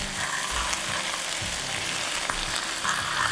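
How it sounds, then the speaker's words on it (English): Vegetables for a Nan Ru claypot stir-frying in a pan, a steady close sizzle with soft scraping and tossing of the spatula throughout, no voices. "So what we want to do here is just give it a very light stir fry"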